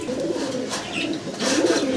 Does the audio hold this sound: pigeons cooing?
yes